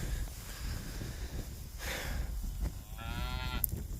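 A cow in a herd with about a dozen calves moos outdoors in a drawn-out, fairly distant call, with snorts and wind noise around it.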